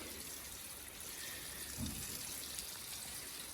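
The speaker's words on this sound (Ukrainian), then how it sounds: "Зараз хорошенько підливаємо цибулю" Onion plants in a greenhouse being watered generously, a continuous soft splashing trickle of water that stays steady and fairly faint throughout, with no talking.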